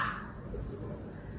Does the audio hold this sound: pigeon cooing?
yes